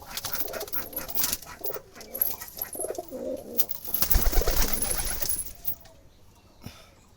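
Wild Jalali pigeons coo softly and repeatedly at close range, low throaty calls overlapping with light rustling and faint background noise.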